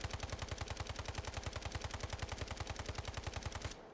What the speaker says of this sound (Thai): อันนี้คือรีคอยปืนนะครับเดี๋ยวยืนตรงๆ เข้าสโคป